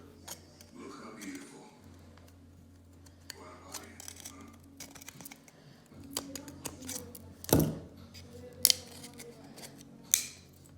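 Scissors snip repeatedly in sharp, irregular clicks, close up, with a person speaking in between the cuts.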